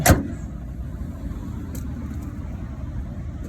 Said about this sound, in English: And there's a car. It looked like it was pulling out.